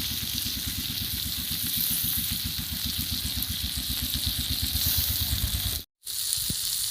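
Chicken tikka sizzling as it fries on a flat roti tawa over a home clay stove, a steady loud hissing crackle with a regular pulsing undertone throughout, cut briefly by a moment of silence near the end.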